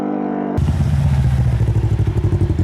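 An Aftermarket Assassins RS1 engine accelerates hard after a brief quiet lead-in, its loud pulsing drone throbbing rhythmically as it picks up another gear.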